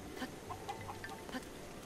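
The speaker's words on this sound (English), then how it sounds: "Want a chicken? Want a chicken on your head?" A cucco chicken in Breath of the Wild clucks in a few soft, short calls over a low game background, fairly faint.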